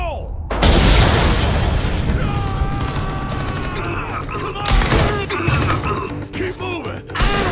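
Explosions and heavy gunfire from the video game Homefront: The Revolution: a loud boom opens into sustained bursts of shots and blasts, with shouted voices mixed in throughout.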